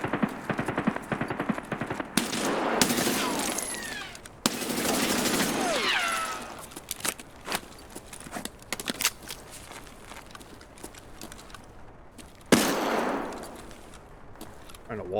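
Gunfire shooting through a wall in the Escape From Tarkov video game on the Reserve map: loud bursts of automatic fire and single sharp shots, close and echoing, scattered irregularly across the clip with quieter gaps between them.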